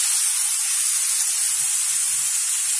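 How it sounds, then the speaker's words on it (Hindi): Steady, loud hiss of finely chopped tomato hitting golden fried onions in hot oil for an Indian mushroom matar masala, a bright sizzle that holds evenly throughout. "अब हम इसमें बारीक कटा टमाटर मिला देंगे और अब हम इसे भूनेंगे।"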